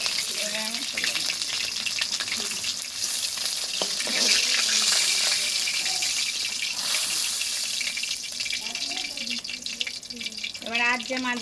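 A pan of fish fries with a constant, close crackling sizzle that swells and eases slightly, while a voice talks intermittently over it.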